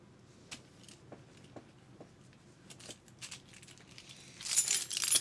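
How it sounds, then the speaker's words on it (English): A bunch of keys jangles and clinks in short separate bursts, then shakes into a denser rattle toward the end, close and quiet, with no talking. "these are my keys."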